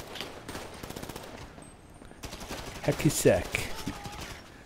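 Rapid bursts of gunfire in Grand Theft Auto V Online crackle in quick succession, with a person talking over the shots.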